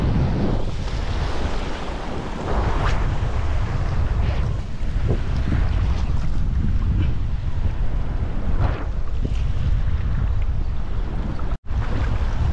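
Strong wind buffets the microphone continuously while fishing from a boat at sea, with the roar of waves and water around the hull, loud and steady throughout apart from one brief dropout near the end.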